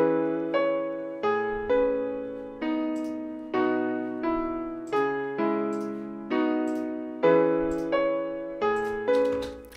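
Sad-sounding software piano shaped by an RC20 preset, EQ and reverb plays a slow melody over chords, about a dozen soft evenly spaced phrases, each note swelling and fading into a reverberant tail, alone with no talk.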